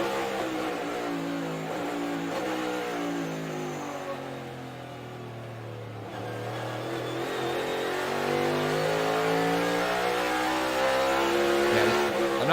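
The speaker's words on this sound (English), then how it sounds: "Here, maybe we can follow along with AJ Allmendinger, though, for just a lap. We'll see what it's like in the 16 car. This is going to be loud" Onboard a NASCAR stock car on the Road America road course, the 16 car's engine roars and revs loudly through a lap, pitch dropping on deceleration then climbing again as it accelerates, alone without talk.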